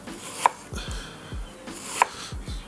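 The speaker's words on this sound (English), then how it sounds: "We'll cut them relatively thin." A knife cuts ingredients into thin strips for cheesesteak-style sandwiches, with two sharp chops on a board about one and a half seconds apart and softer slicing strokes between them, close and clear with no talking.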